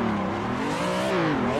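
Cars drift in tandem in the racing game Assetto Corsa, their engines droning and revving up and down in pitch. The sound is loud and close and runs steadily, with no talk.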